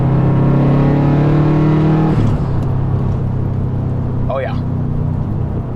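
A racecar accelerating hard on a road trip, its engine note climbing steadily and loud in the cabin before a gear change, then droning on at speed while a voice speaks briefly over it.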